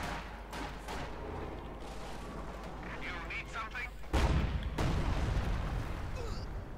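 Soviet ISU heavy assault gun firing in the strategy game Company of Heroes 2, a continuous heavy battlefield roar with a sharp loud blast about two-thirds through, under a commentator's voice.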